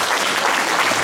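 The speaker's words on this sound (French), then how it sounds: "Donc un petit applaudissement pour les efforts qui ont été faits l'année dernière." Short burst of dense audience applause at a mayor's New Year address to residents, steady and fairly loud throughout with no voices on top.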